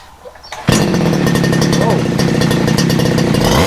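A two-stroke weed wacker string trimmer with a freshly cleaned carburettor float chamber starts after a brief quiet moment, then runs loud and steady with a rough, buzzing engine note close by.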